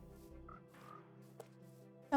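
Frog croaking in the video game Minecraft: a few soft, low croaks under a quiet, steady game ambience, then a louder burst of sound at the very end.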